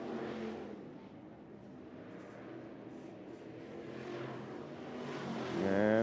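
A Lucas Oil late model race car passes on a track during qualifying, its engine a loud, steady roar that swells near the end of the pass.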